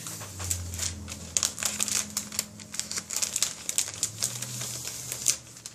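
Paper pack from a junk journal kit being opened by hand, with sewing pattern paper and tissue paper crinkling and rustling in steady close bursts over a faint low hum.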